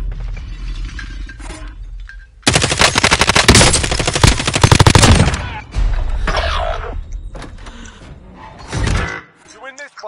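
Rapid automatic gunfire from a video game battle, a loud sustained burst with crackling shots and glassy clinks, followed by further bursts and scattered impacts while voices talk over the action.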